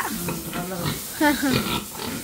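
Pigs on a pig farm grunt in short, close bursts, with a couple of louder, drawn-out squealing grunts near the middle and voices mixed in.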